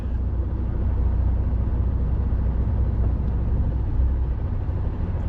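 Car driving through London rush hour traffic on a weekday morning, heard from inside the cabin as a steady, close low engine and road rumble with no break, no voices over it.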